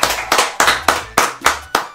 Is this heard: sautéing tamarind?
no